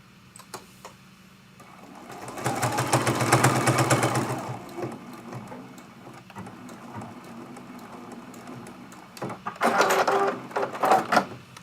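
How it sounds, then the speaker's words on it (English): A sewing machine stitching a pin cushion runs in a steady whirring burst for a couple of seconds, then pauses and starts again in shorter bursts, close and moderately loud. "Sew completely off and then flip it around."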